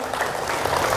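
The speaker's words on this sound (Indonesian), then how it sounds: "Oke, tepuk tangan dulu buat teman-teman ini dong." An audience at an Indonesian civil servants' pre-retirement briefing gathering clapping, a dense burst of applause filling the room for a short moment.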